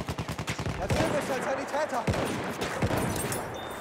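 Rapid bursts of rifle gunfire and sharp impacts from the video game Battlefield 1, mixed with heavier single booms, loud and close, while a player talks over the shooting.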